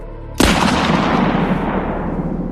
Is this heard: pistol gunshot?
yes